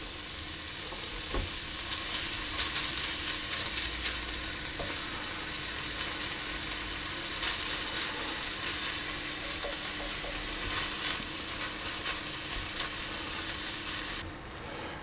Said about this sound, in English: So that meat is beginning to brown